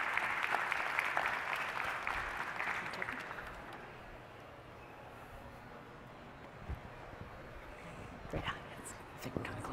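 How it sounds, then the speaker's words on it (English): Conference audience applauding as two speakers come onto a stage at a cable industry expo, a burst of clapping that fades after a few seconds into quiet room noise with faint movement and a voice near the end. "please give a warm round of applause for Kim and for Jonathan"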